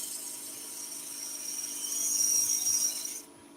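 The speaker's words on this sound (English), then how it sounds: "let me just do a quick skew coat with a bowl gouge" Bowl gouge shaving a spinning wooden top on a lathe: a steady hiss and whine of cutting that swells slightly, then stops abruptly near the end.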